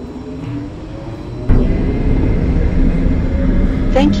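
An airport transit train pulling out of the station, with a steady low rumble and rolling hum that jumps louder partway through as it gets moving, heard from inside the car.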